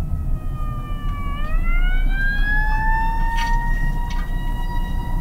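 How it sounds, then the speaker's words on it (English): An ambulance siren wails past in traffic, its tone sweeping and shifting in pitch as it moves by, fairly loud over a low road rumble of passing cars. "It's a whole ambulance going and these cars are just turning right in front of it like they don't see it or hear it."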